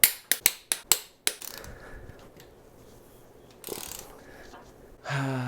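A torque wrench clicks through a tightening sequence on engine bolts during an engine swap after a cracked block, giving six sharp, close ratcheting clicks in quick succession, then quiet shuffling and a brief rustle.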